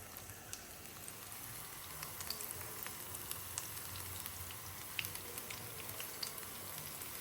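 Pakoda batter frying in hot oil, a soft, steady crackle and sizzle with scattered small pops, heard alone and fairly faint.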